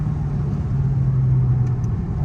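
A Mercedes-AMG CLA with 4MATIC all-wheel drive cornering, its engine a loud, steady close drone with a constant hum throughout.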